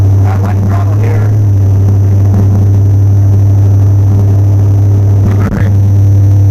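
A Buick 350 V8 in a Buick Regal drones steadily up a steep hill on reduced throttle, a loud, heavy low-pitched hum from inside the car that stays constant throughout, with a brief bump near the end.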